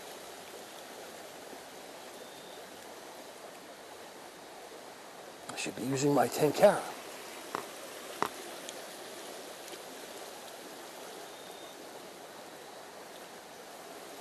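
Soft, steady stream water flow washing under a sandstone overhang runs throughout at low level, with someone speaking briefly in the middle over it.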